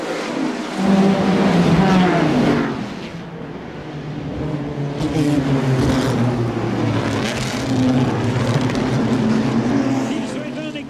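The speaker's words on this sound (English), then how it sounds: "Dayton is the quickest off the line, and he settles into the lead with his Lotus 16." Front-engine Lotus 16 historic Formula One race cars at the Monaco Historic Grand Prix, loud engines revving and roaring past with shifting pitch, while a commentator talks over them.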